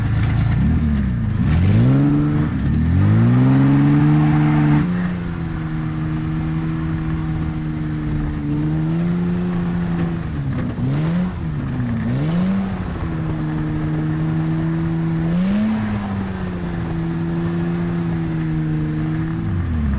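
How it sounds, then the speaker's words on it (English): A homemade Lamborghini replica drives on an ice track, its engine droning steadily and rising and falling in pitch as the throttle shifts, loud and close throughout. "Overall, the car drives extremely well."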